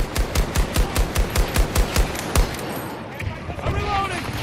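Rapid automatic gunfire in the game Battlefield 2042, about a dozen sharp, evenly spaced loud shots in a burst, then a quieter stretch with faint game sounds.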